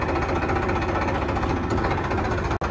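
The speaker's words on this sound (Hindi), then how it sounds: "और बाकी अब ट्रैक्टर अंदर कर देंगे।" Farmtrac tractor diesel engine running close by, a loud, steady, dense rumble with faint rhythmic knocking throughout and one brief dropout near the end.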